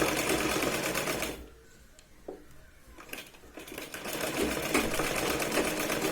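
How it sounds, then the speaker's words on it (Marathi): A sewing machine runs close and loud while stitching the sleeve of a Punjabi top, a fast steady whir that stops briefly in the middle with faint handling clicks, then resumes. "सुई बाहेर न काढता डबल शिलाई लावून घ्यायची"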